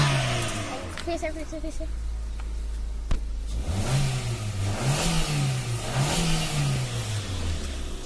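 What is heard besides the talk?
Suzuki Ciaz car exhaust revving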